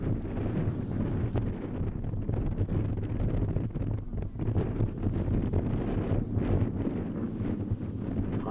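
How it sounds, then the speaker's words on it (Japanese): Strong wind gusting at an outdoor children's ski race in Hokkaido, a steady loud roar of buffeting air hitting the microphone with no voices, continuous throughout. "かなり風が吹いてきましたね。"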